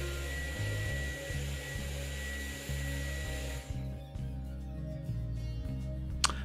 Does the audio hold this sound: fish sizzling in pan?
no